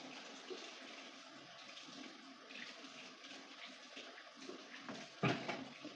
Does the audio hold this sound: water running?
yes